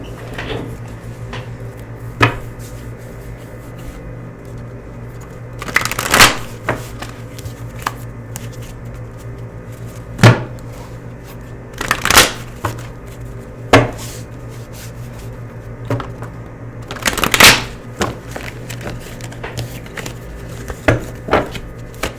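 Several bursts of tarot card shuffling and riffling, separated by brief quiet gaps, with a faint low hum underneath and no talking.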